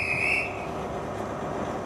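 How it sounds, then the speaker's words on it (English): A train whistle sounding as the First Great Western Night Riviera sleeper departs: a single high steady blast that fades after about half a second and leaves a low rumble underneath. "It's a nice sound, isn't it, when you hear the whistle blowing?"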